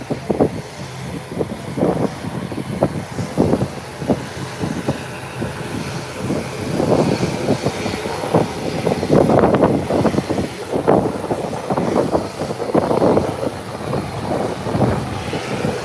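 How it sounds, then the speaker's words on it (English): A Beechcraft 1900 turboprop on the runway at Howard Hamilton International Airport in the Turks and Caicos, starting a short takeoff: a loud, steady propeller and engine roar holding throughout, with rumbling surges and wind buffeting. "Beechcraft 1900. Now on the runway, everybody taking short takeoff today."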